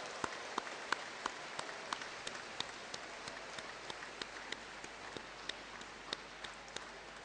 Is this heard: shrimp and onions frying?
no